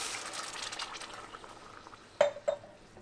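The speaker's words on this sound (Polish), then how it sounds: "Woda nam zaczyna gotować," Two cups of water with a cup of quinoa come to a boil in a pot, giving a faint, hissing bubble, then two sharp metallic clinks of pot or utensil near the end.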